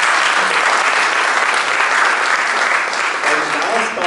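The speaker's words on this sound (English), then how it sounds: "Ray, please give him an applause." Loud, dense audience applause at a systems sciences conference panel session, a full crowd clapping steadily and close for a few seconds before easing slightly at the end.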